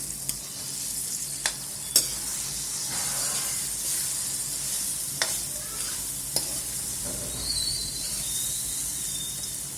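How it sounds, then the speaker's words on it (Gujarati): Fenugreek leaves sizzle steadily in hot oil in a pan with turmeric and curry leaves, a constant frying hiss broken by occasional sharp clicks of a spoon stirring against the vessel, close up with no talking. "આ શાકને આપણે પહેલા મેથી વઘારી દઈશું."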